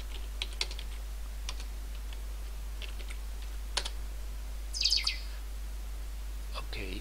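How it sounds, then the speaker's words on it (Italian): Someone types on a computer keyboard in scattered, irregular clicks and short bursts of keystrokes, fairly close. A steady low electrical hum runs beneath, with a brief chirp-like sound midway. "andiamo a digitare."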